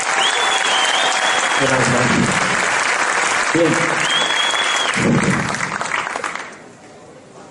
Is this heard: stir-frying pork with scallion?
no